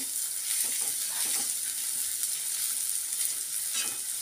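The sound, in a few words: rice frying in a pan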